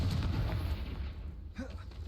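Confringo fire spell from the game Hogwarts Legacy: a low, rumbling blast with booming impacts, followed by a brief lull and a second burst of the explosion, set against game ambience.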